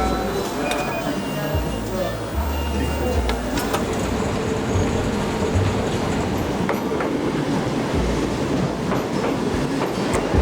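Steady rumble of a train rolling on rails into Utrecht station, Netherlands, with rhythmic clacks and metallic squeaks, loud and continuous throughout.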